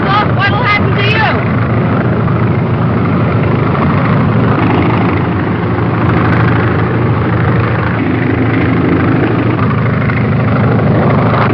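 A loud, steady airplane propeller engine drone in flight fills the whole stretch without letup, with voices talking over it.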